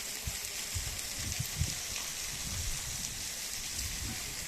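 Heavy monsoon rain in Kodagu near the Bhagamandala–Napoklu road makes a steady, broad wash of falling water with low rumbling patters, fairly faint and distant, with no one talking.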